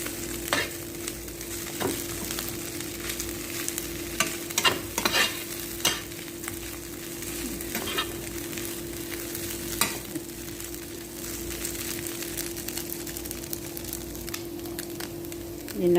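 Leftover chicken seasoned with black pepper and curry powder is stirred in a sizzling pan. A soft, constant frying hiss carries scattered scraping knocks of the spatula over a steady low hum.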